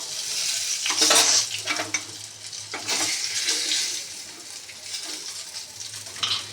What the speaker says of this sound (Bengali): ভালোভাবে ভেজে নিই বেগুনটাও ভাজা হয়ে গেছে